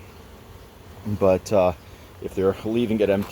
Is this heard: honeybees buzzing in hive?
yes